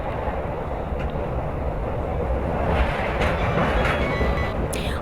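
A steady, loud rumble of a moving train crossing the Godavari River fills the whole stretch, with a faint rattle on top and no pauses.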